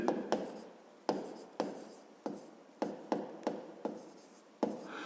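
Pen or marker strokes for a physics problem solution for Ukraine's 7th grade, written by hand in a steady series of about ten quick, close scratches, each ending with a short rasp, with no talk.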